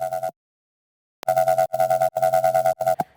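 A gritty Serum 2 synth bass with erosion and saturation pulses in short rhythmic bursts, briefly cutting out before resuming with a choppy, distorted repeating pattern.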